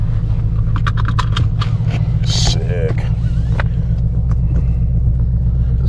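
A Ford Shelby GT350 Mustang fitted with a K&N air filter cruises with a loud, steady low engine rumble from inside the cabin, with scattered clicks and rattles and a person talking briefly over it.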